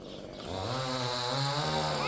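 A chainsaw cutting tree branches in a village, its engine revving up and holding a loud, steady buzzing drone close by.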